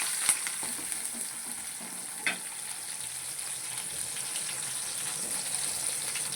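Onions frying in oil with cumin, mustard seeds and tamarind give a steady, fine sizzle close by, with a couple of brief clinks or pops, quiet and continuous, no voices.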